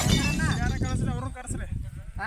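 Sheep bleat in a close, fairly loud, wavering run from a flock kept by herders, with people talking over them almost throughout.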